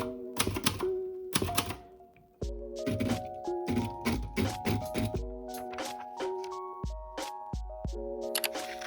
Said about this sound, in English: I haven't used this typewriter in a while.